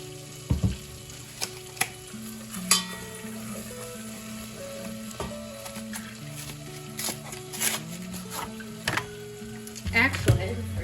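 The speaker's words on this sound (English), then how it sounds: "now I'm going to put in a block of cream cheese." A block of cream cheese goes into a pan and is stirred, with soft sizzling, scattered utensil scrapes and clinks, and a few louder knocks against the pan, fairly quiet throughout under background music.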